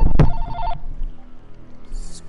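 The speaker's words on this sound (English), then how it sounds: "And my phone." A phone rings briefly in a Middle-earth: Shadow of War play session, a short electronic ringtone following a sharp thump, then quieter room noise and a faint high chime at the end.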